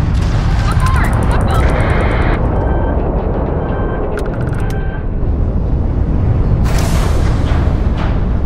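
Suppressed gunfire in the Starfield video game, heard as loud, dense, continuous bursts of shots layered over constant game noise and blasts for the whole stretch.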